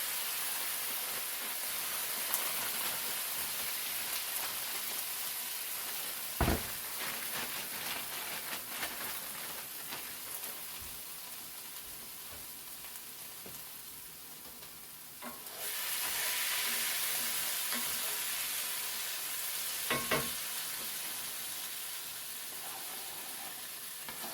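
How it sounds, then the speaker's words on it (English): Steady, hissing sizzle of peppers and onions frying in a hot pan, with a couple of sharp clicks and a brief surge of louder crackling partway through. "A lot of sizzle."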